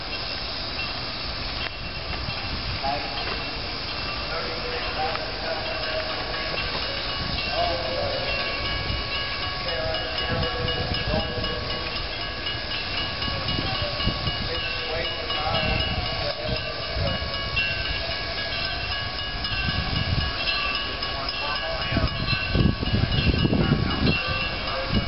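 Steam train at the Midwest Old Threshers Reunion rumbles steadily with continuous hiss and rolling rail noise throughout, loud and close, with a heavier surge near the end.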